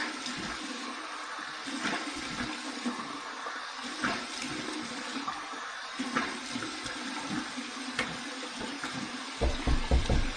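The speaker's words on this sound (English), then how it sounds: "All right, cold water rinse." Cold water runs steadily from a bathroom tap as a face is rinsed after a shave, with a continuous splashing stream and louder splashes near the end.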